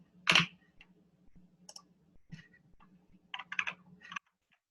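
A computer keyboard gives a sharp key click, then sparse soft taps and a quick burst of clustered keystrokes as numbers are typed in, all close and quiet.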